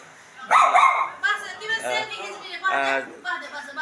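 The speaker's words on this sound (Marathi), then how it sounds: "हे बघा कुत्रा किती सुंदर आहे बघा" At a hotel restaurant in Nepal, a dog gives a few short barks and yips amid people talking close by.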